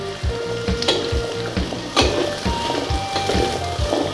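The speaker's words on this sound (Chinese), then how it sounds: "依個芋頭咧，我哋需要係爆香佢先" Taro sizzles in hot oil in a wok during stir-frying, a dense crackling hiss punctuated by rhythmic knocks and scrapes of a spatula against the metal, loud and close.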